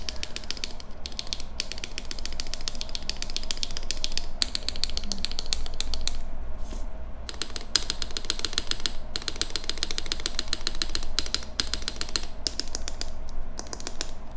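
A Luminkey80 MK II mechanical keyboard fitted with Macchiato switches clacks away in steady, rapid typing close up, its keystrokes dense and continuous with brief pauses between bursts.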